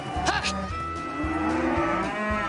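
Cattle and calves being herded on a Colorado ranch low, drawn-out moos, several overlapping calls close by in quick succession, no talking.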